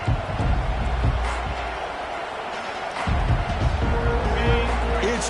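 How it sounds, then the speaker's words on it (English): A large stadium crowd at an American football game roars continuously, a dense wall of noise that swells louder around the middle and stays loud to the end. "It's early, but this crowd is fired up. Listen to this noise here."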